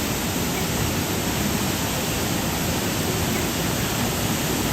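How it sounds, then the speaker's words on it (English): Horsetail Falls, a waterfall in the Columbia River Gorge, pours in a steady, dense, unbroken roar that stays loud and even throughout with no voices. "We finished off at the Horsetail Waterfall, which was super beautiful"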